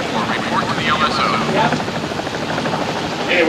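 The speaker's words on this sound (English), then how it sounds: "All helos in starboard delta till we clear them for landing." Helicopters on an aircraft carrier flight deck give a steady, loud rotor and engine roar, with speech over the noise throughout.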